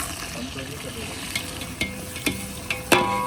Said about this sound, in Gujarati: હવે કરશે ડુંગળીનો વઘાર